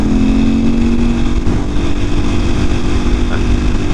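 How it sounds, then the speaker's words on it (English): A stock 2024 KTM 500 EXC-F dirt bike engine runs loud and close, holding a steady throaty drone with a slight rise in revs midway, alone without talk. "I'm not gonna rev it too much, but engine sounds great, and that's just stock"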